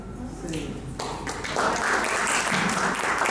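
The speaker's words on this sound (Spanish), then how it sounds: "Un aplauso." An audience at a talk on mental health and depression in education breaks into applause, clapping building from sparse taps to a fuller round, with a voice speaking over it.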